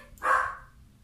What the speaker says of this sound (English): I apologise if you hear Molly barking in the background.